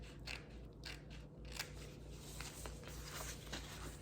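Scissors trimming material for a black and white DIY vignette, a series of close, quiet crisp snips and rustles at irregular intervals over a low hum.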